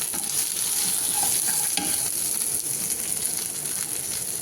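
Drumstick (moringa) pieces fry and sizzle in a pan for a paneer drumstick curry, a steady close hiss with faint stirring scrapes throughout and no talk.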